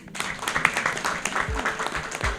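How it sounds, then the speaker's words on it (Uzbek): Audience applause for a quiz team at a book-lovers' club contest, steady dense clapping throughout with a few louder claps near the end. "bir komandaga yana bir olqishlar."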